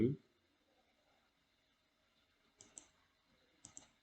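Two quick pairs of soft clicks, like a computer mouse button, after a brief thump at the start, in an otherwise quiet room.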